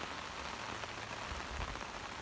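Steady rain falls on a river at a fishing spot, giving a dense, even hiss of drops that is continuous and moderately loud with no voices.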